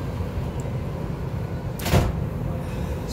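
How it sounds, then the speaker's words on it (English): Las Vegas Monorail car doors close with a single short, soft thud and whoosh midway through, set against the constant low rumble and hum of the train interior. "The doors are closing."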